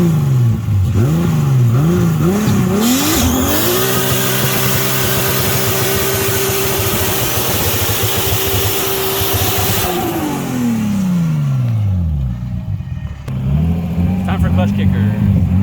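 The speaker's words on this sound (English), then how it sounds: "It's time to do that annual burnout, the driveway burnout." Car revving hard for a driveway burnout ahead of a drift practice day, the engine rising and falling in sharp throttle blips, then holding a loud steady high rev for several seconds before winding down and settling near idle.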